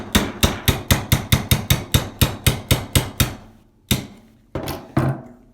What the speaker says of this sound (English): we're going to use a 3/32 punch, again, roll pin punch, to remove these 2 screws in the back of the